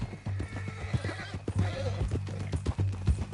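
A horse in Red Dead Redemption 2 clip-clops along with a steady rhythm of hoof falls on the ground, and a mid-clip whinny rises over the hooves, all close and moderately quiet.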